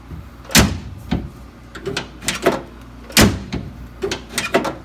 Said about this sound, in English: Yay, now I've got closing doors.